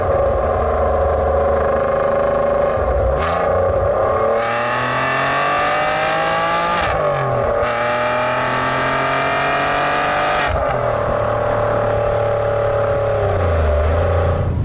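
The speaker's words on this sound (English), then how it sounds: "if you want to get the best from it, you really do have to get it into the top reaches of the rev counter" An Alfa Romeo GT with its 3.2-litre engine revs hard toward the redline, loud and close, the pitch climbing in long sweeps with brief dips between pulls, then settling back near the end.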